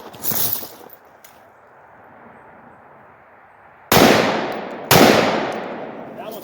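Rifle shots fired at targets several hundred yards downrange, heard as one sharp report near the start and two more loud cracks about a second apart near the end, each trailing off in a long outdoor echo.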